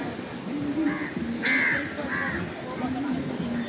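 Several harsh crow caws ring out close by in quick succession, over a background murmur and a voice talking.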